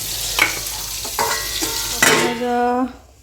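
Sliced bitter gourd and pointed gourd sizzle steadily in hot oil while being stirred, with a few scraping clinks of a utensil against the pan, heard up close.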